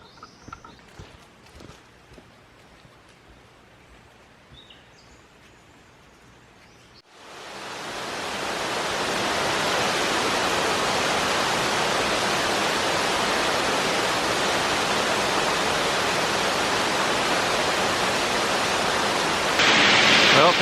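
A waterfall deep in moss-covered jungle forest west of Coffs sits quietly in the background at first, then swells into a loud, steady, broadband roar of falling water that fills the rest of the scene.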